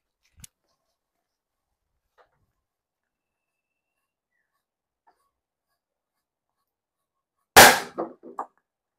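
Firecrackers set off inside a water gallon: a sudden loud blast bursts out near the end after long near-silence, followed by a few quick smaller pops and splashy bursts.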